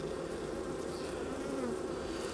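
A thriving honey bee colony fills the hive frames packed with honey, giving a dense, steady buzzing hum that stays close and continuous throughout.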